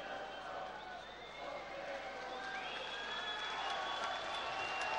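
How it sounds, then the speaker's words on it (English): A boxing crowd claps and cheers steadily for Scott Harrison after his fight with Liam Walsh, a dense wash of applause with scattered shouts and whistles that swells slightly toward the end, with murmured voices mixed in. "now he's getting a very much more sporting acclaim from the crowd"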